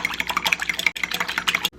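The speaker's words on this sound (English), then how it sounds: "crack your egg. To that, add your water and give it a good whisk" Egg and water whisked briskly in a bowl for Korean fried chicken batter, a rapid continuous clicking and tapping rhythm of the whisk against the bowl, close and bright, with brief pauses.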